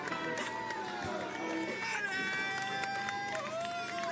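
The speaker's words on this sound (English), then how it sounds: "the boys are all out for Binny on the side of the road. They're cheering on." Roadside fans at the Tour de France cheering for cyclist Biniam Girmay, a steady crowd roar with rising whoops and shouts over continuous babble.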